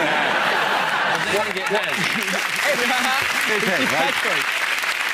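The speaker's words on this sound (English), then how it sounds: "there's a polite round of applause for the audience" A television comedy panel show studio audience breaks into steady applause, dense and even clapping filling the room, with a few chuckles and voices mixed underneath.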